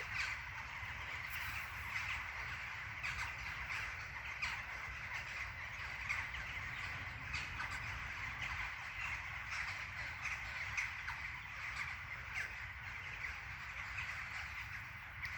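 A large flock of crows caws continuously and loudly overhead, a dense, overlapping chorus of harsh calls with no pauses.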